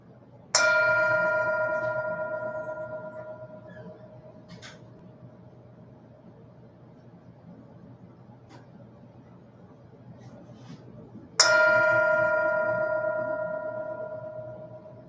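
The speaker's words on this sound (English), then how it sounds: "Here's the bell." A mindfulness bell is struck twice during a meditation service, each clear ring blooming into a long shimmering tone that slowly fades, with about eleven seconds between strikes and faint room hum beneath.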